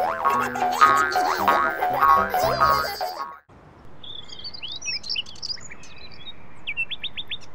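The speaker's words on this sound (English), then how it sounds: "Birds attract Groovy's attention" Cartoon birds chirp in short, high tweeting bursts after about 3.5 seconds, following a loud music-and-effects passage, with a steady soft background hiss under the calls.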